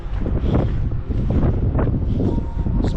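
Gusty wind buffets the microphone on the summit of Mt Puʻuʻohulukai on Oahu, Hawaii, a loud, rumbling, turbulent roar with surging gusts and no talking.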